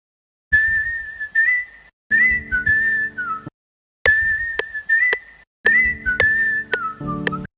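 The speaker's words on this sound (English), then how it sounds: "there was like a whistle before" A person whistles a short tune in four separate phrases with pauses between, some notes sliding, against a quiet background.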